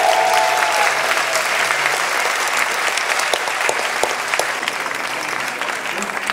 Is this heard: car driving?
no